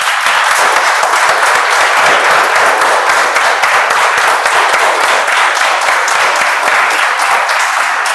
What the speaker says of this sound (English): let's give them a mega round of applause